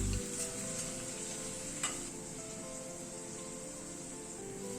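Garlic and green chilli fry gently with onions, a low, even sizzle under a steady background hum, with one brief clink of a utensil around two seconds.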